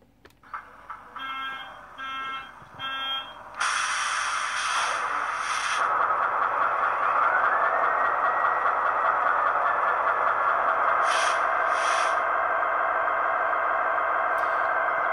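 A Kato HO scale Norfolk Southern SD80MAC model locomotive with an ESU LokSound Select decoder plays its 20-cylinder diesel engine sound through a small speaker: brief startup chirps and clanks, then a loud, steady, droning idle.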